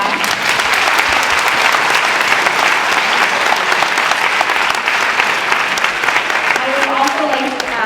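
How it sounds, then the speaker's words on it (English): A high school awards night audience at White Plains High School gives a sustained round of applause, loud dense clapping throughout with a voice faintly audible near the end. "let's give them a round of applause one more time"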